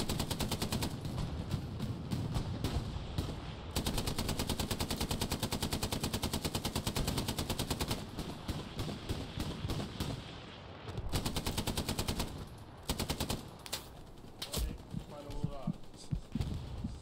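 Machine gun fire in the World War II shooter Hell Let Loose, long rapid automatic bursts with brief pauses between them, loud and sustained, and players talking over parts of it.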